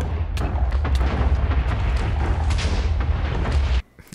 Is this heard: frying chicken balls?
no